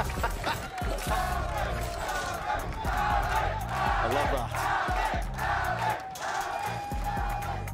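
An esports arena crowd at a Valorant match chants and cheers in a dense, loud roar with rhythmic chant pulses, while a voice speaks over it.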